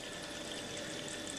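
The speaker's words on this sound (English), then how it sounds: "Karen heats up the mineral water till it starts to boil" Mineral water heated to a boil gives a steady, dense bubbling hiss that stays even and continuous throughout.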